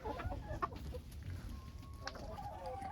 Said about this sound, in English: Chickens, get back.